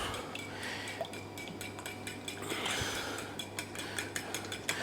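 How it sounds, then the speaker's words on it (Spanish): A fork clinks rapidly against a bowl beating eggs, in quick irregular taps, quiet and close, with a steady low hum underneath. "Aquí iba yo a batir los huevos"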